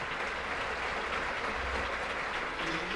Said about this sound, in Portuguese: Vamos aplaudir os autores e vamos aplaudir esse pessoal que teve essa iniciativa.